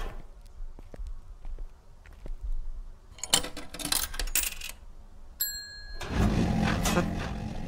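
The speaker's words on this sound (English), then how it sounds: "Someone ring the bell at the front counter?" A service bell at a front counter in a video game dings once, with a bright ringing tone that decays briefly, among scattered clicks, clatter and background game noise.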